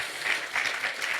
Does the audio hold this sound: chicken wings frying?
no